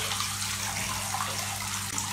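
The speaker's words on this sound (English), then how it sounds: "So what I'm gonna do is start to rinse it out." Water from a tap or shower runs steadily while mixed-race hair is rinsed out after washing, giving an even, continuous splashing rush close by with no voices.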